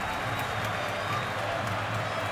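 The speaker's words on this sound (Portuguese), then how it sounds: "O Santa já levantou a torcida." Football stadium crowd roaring for Santa Cruz in a 2011 match, a steady dense wash of cheering and clapping held at an even level throughout, distant and broad with no single voice standing out.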